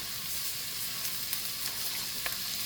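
Bell pepper and jalapeño sizzle steadily in a hot pan, a dense frying hiss with a few faint pops and no talking.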